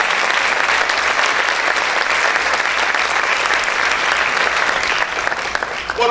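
A church congregation claps loudly and steadily for the full stretch, a dense, even wash of many hands with no break, dipping only slightly near the end.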